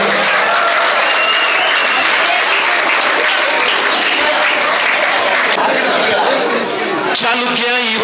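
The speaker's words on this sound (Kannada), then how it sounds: "ಜೋರ್ ಚಪ್ಪಾಳೆ ಬರಲಿ ನಿಮ್ಮ ಕಡೆಯಿಂದ" A crowd at a college annual day prize ceremony applauds loudly and steadily with chatter mixed in, and a voice comes in near the end.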